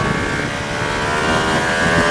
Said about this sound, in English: That engine is fast. It's got a little bit of a sort of jerky stutter.